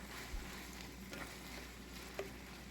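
Shredded cabbage sizzles in hot oil while being tossed and stirred in a pan, a steady close frying hiss with a few soft scrapes.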